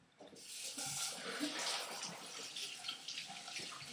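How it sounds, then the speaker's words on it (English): A running kitchen tap splashes water as hands are rinsed under it, a close, steady rush lasting a few seconds that starts abruptly. "I'm going to quick rinse off my hands."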